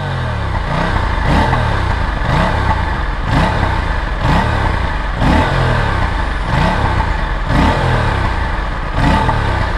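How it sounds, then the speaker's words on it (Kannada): An Aprilia RS457 motorcycle under way gives a loud, rhythmic series of exhaust pops and crackles, repeating about once a second over a steady engine drone. "ಅಯ್ಯೋ, ಪಾಪ್ಸ್ ಹೊಡಿತಾ ಇದೆ ಗಾಡಿ, ಮಸ್ತಾಗಿದೆ."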